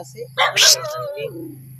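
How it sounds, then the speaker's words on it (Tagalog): A dog barks and whimpers on a Philippine farm, one short loud yelp burst followed by a falling whine over a steady low hum. "Tumatahol lang."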